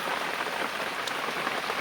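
Rain falls steadily on a garden at night, a dense, even hiss of drops with no voices, constant in level from start to finish.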